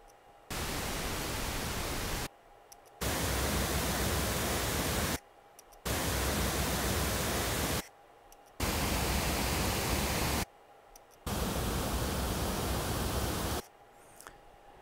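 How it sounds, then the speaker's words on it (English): Broadband noise test signal played through a coaxial loudspeaker heard 30 degrees off axis, five steady bursts of hiss, each about two seconds long, separated by short silent gaps. "Let's do 30 degree also, and you can hear that's the final example with noise."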